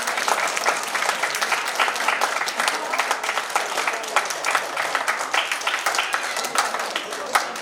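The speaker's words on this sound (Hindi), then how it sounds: "एक बार जोरदार तालियां होनी चाहिए।" Loud, dense applause from a large crowd at a school ceremony marking Louis Braille's birth anniversary, many hands clapping continuously and evenly throughout.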